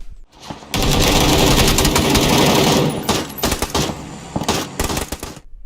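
An Mk14 rifle in PUBG fires on full auto, a loud, rapid, continuous burst for about two seconds, followed by a few scattered short bursts and single shots.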